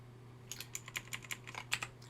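Typing on a computer keyboard while coding Java in NetBeans, a quick burst of a dozen or so light, close key clicks over a steady low hum.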